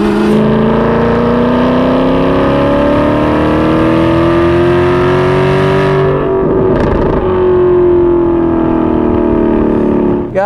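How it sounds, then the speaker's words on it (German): A sports car with a six-speed gearbox revs its engine loudly, the pitch climbing and holding, then a burst of crackling backfires around the middle before the revs rise again, close and without talk. "Vor allen Dingen diese Fehlzündungen, die er hat, die gehören dazu dem Modell."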